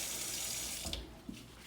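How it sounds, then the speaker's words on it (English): Tap water runs steadily into a basin being rinsed out during male catheter care, a continuous close splashing wash that thins slightly near the end. "You can rinse his basin, just empty the water that was in it."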